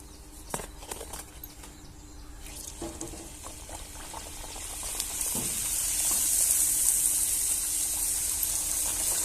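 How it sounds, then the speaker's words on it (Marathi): Spinach puris deep-fry in hot oil with a bubbling hiss that swells steadily louder partway through, accompanied by a few light clinks and knocks nearby. "सगळ्या पुढे असेच तळून घ्यायचे आहेत मस्त कडक होऊन द्यायच्या मग काढायच्या"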